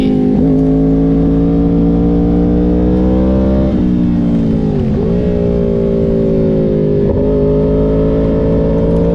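Kawasaki 250 dirt bike from Moto XT being ridden at a motocross track, its engine loud and close with a sustained buzzing drone. The pitch rises and dips with a few sharp drops at throttle changes or shifts.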